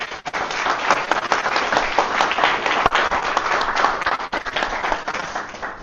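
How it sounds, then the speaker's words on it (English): A seated audience at a winter aviation safety seminar claps steadily for the presenter, with dense, close hand claps running for several seconds without a break. "let's get a round of applause for Chris."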